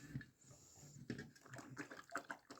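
Dog lapping water from a bowl nearby, a quiet series of quick wet slurps and splashes at an uneven rhythm.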